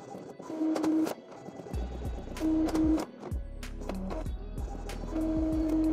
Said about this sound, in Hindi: नेटवर्किंग से रिलेटेड इसमें वाईफाई का पासवर्ड, वाईफाई का नेम, वो सारी चीज़ें ये इस पेपर पे प्रिंट करके देगा।